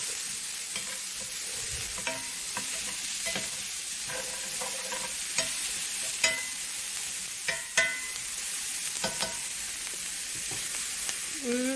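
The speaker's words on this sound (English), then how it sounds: "I'm just going to cook these a few minutes. Make sure I get all that seasoning off the bottom." Salisbury steak frying in a pan on low heat while a utensil stirs and scrapes seasoning off the bottom, a steady sizzle broken by repeated clinks and scrapes, close and alone without talk.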